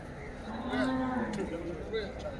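A buffalo at a livestock market lets out a single long, low moo nearby, rising and falling over about a second against faint background noise.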